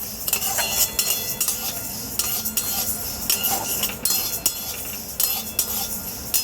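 Golden moong dal dry-roasting in a hot kadai, stirred briskly with a metal spoon that gives repeated scraping rattles and light clinks over a faint dry hiss, close and without voices.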